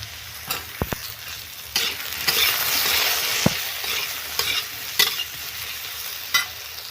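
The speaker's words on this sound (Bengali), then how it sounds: "বেগুনগুলো একটু লাল লাল করে ভেজে নেব।" Potatoes and eggplant pieces fry together in a pan of hot oil. A continuous sizzle swells and fades, broken by sharp clinks and scrapes from a spatula stirring at close range, with no voices.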